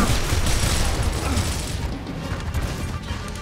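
Dense, continuous video-game gunfire from Gears of War, with sustained rapid shots and crashing impacts that stay loud throughout and ease slightly toward the end.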